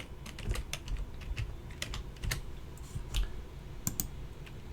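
Keys clatter on a computer keyboard in quick, uneven bursts of clicks as a password is typed, close and fairly quiet against a low room hum.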